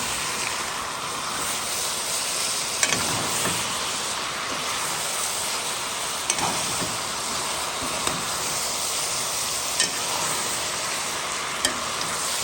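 Cabbage being stirred in a hot frying pan for boucané aux choux, a steady sizzle and frying hiss throughout with occasional soft scraping knocks of the utensil, no talking.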